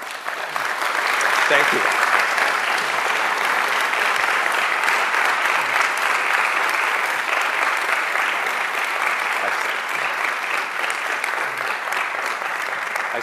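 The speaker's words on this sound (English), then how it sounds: "I stepped on your applause" A large audience at a free speech conference applauds an author after his conversation, a loud, sustained wall of clapping lasting several seconds, with a brief spoken thanks near the start.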